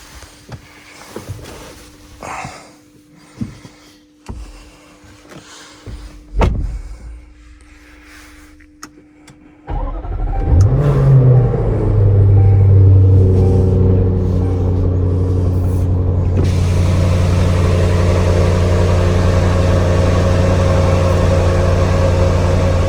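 After quiet clicks and shuffling, a car engine fires up with a loud roar, then settles into a deep, steady rumbling idle.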